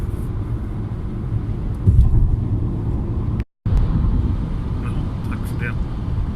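Car driving through Tucson, Arizona, with a steady low road rumble and wind noise throughout, a brief dropout midway, and people talking over it.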